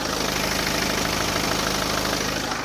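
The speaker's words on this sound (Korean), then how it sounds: "디젤 엔진이라 어느 정도 소음은 있지만" A BMW 5 Series diesel engine idles with the hood open, a steady close clattering hum with a fine rhythmic knock running evenly throughout, no talk.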